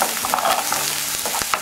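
Chopped onion cooks in a frying pan, with a loud, close sizzle broken by several sharp stirring clacks and scrapes of a utensil.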